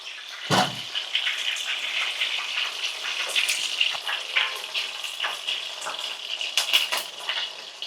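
Chicken leg pieces frying in hot oil for Sunday evening snacks, a loud steady sizzle and bubbling crackle with one low knock near the start, continuous throughout.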